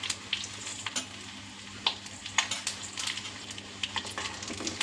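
Cumin seeds crackle and sizzle in hot oil, a steady close frying hiss broken by small sharp pops and light clicks of a utensil.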